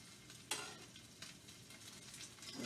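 Salmon pieces sizzle in a hot frying pan, a soft steady crackle with a few sharper spits as they are stirred, heard quietly and up close with no talk.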